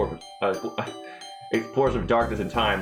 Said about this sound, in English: That was my doorbell, by the way.